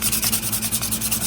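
Sandpaper rubbing over the stag-bone handle of a Case XX Russlock pocket knife, a close, steady back-and-forth scratching in rapid regular strokes with no talk.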